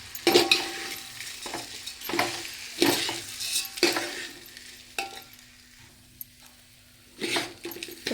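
Rice tipped into a pot of spiced vegetables for veg biryani and mixed in, close up, with repeated bursts of scraping, stirring and sizzling at irregular intervals, broken by a brief quiet stretch before the stirring picks up again.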